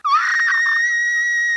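A voice imitates a vampire's high, piercing shriek, one sustained wail that rises sharply and then holds loud and steady for over a second, alone with no talk.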